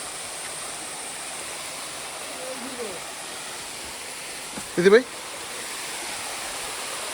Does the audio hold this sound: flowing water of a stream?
yes